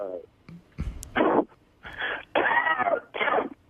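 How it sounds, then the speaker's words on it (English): A few rough, throaty coughs in short bursts mixed with bits of voice, close and moderately loud. "What is this coughing thing?"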